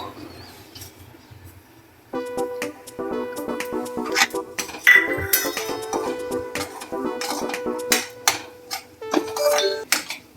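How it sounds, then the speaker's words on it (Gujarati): Semolina goes into hot ghee in a pan for sheera and is stirred with a spoon. After a quiet start come repeated close clinks and scrapes of metal against the pan in an uneven rhythm. "હવે આપણે નાખી દઈશું રવો"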